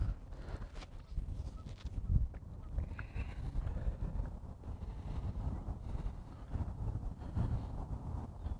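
Wind buffets the microphone steadily on an open boat while bass fishing, a constant low rumble throughout with no speech.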